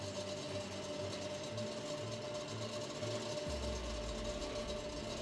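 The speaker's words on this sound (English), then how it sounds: "You can hear the engine noises." Kart engines run in the pit lane at an IAME Middle East Cup race, a steady buzzing drone heard from a distance, with a deeper rumble joining near the end.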